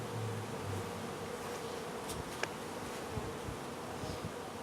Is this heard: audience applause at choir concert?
no